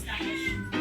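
A cat meows close by, one drawn-out, wavering meow followed by the start of a second cry, loud and clear with no talking.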